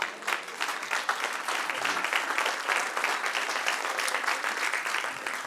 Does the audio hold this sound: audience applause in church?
yes